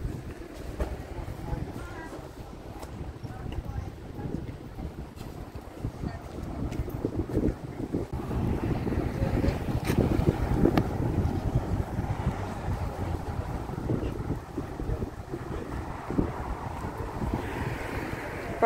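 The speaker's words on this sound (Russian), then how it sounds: "Погода хорошая, ветерок обдувает, идти приятно" Breeze buffeting the microphone during an outdoor walk at the Black Sea resort of Arkhipo-Osipovka, a continuous low rumbling gust noise that swells in the middle, with a faint background wash.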